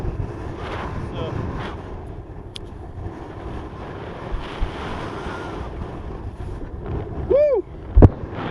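Strong wind buffeting a microphone at a paragliding launch site during high-wind flying with a 6 m Gin Shaman 3 wing, a steady rough rumble that swells into gusts, with a brief whistling tone and a sharp knock near the end.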